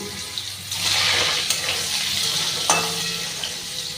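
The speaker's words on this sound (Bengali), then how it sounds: "ওই তেলের ভেতরেই আমি আলুটাকে এবার ভেজে নিচ্ছি।" Potato pieces frying in oil in a pan, a hissing sizzle with stirring scrapes and an occasional sharp clink, close and fairly loud.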